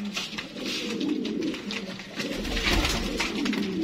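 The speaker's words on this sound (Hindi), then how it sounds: "आने दोस्तों सियालकोटी शेखां वाले कबूतर" Sialkoti pigeons of the Sheikhan line cooing steadily, a soft continuous low warble from several birds close by, with no talk over it.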